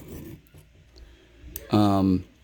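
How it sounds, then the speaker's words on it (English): A fine metal file rasps across a part while XS Big Dot sights are fitted to a Ruger LC9s pistol; faint handling noises lead into one short, loud, buzzing stroke near the end, with a hint of voice early on. "I've got a nice fine file here, and this file, try the other side here, maybe a little coarser"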